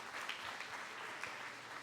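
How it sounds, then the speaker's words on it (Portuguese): Church congregation applauding, a brief stretch of dense clapping heard faintly and at a distance, continuous with no distinct voices. "Aplauda o Senhor Jesus."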